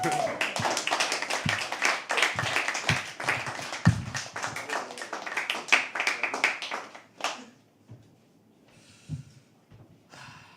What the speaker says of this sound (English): For Harsh also a round of applause